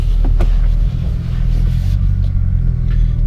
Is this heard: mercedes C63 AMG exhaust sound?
yes